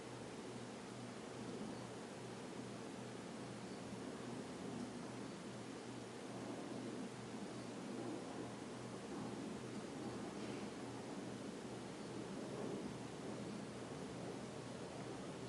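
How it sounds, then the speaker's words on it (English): A Hunter Comfort Breeze ceiling fan running on medium speed gives off a steady broadband whoosh of moving air with a low, even electrical hum beneath it, constant and close throughout with no voices. "Medium, there is a noticeable hum,"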